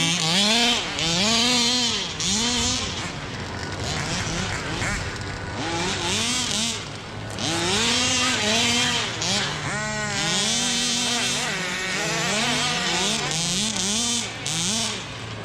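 A large 1/5 scale Rovan Baja 5B RC car's small high-revving engine buzzes and whines continuously, its pitch rising and falling repeatedly as the throttle is blipped, close and loud.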